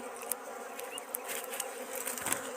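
Wild honey bees swarming over a honeycomb in a forest, a dense, continuous buzzing hum that stays steady and close throughout, with no voices.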